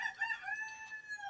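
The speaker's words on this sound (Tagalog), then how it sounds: "sabi ng manok ng kapitbahay" A neighbour's rooster crows in one continuous drawn-out cock-a-doodle-doo, moderately loud and heard alone without talk.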